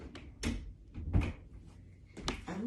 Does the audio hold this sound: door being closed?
yes